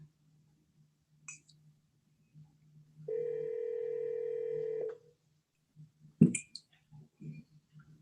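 A phone on speakerphone dials a number: a few faint clicks, then a steady tone for about two seconds, followed by sharper clicks and brief bursts.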